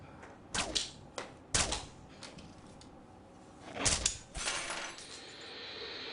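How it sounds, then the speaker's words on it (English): Playing cards are handled in short bursts during card-trick practice in a deleted film scene, with crisp riffles and snaps against a quiet room. "So here we have an early scene of Ricky practicing his cards"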